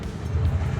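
A 1980 Turbo Trans Am engine idling and revving, a low rumbling drone heard close for a brief moment.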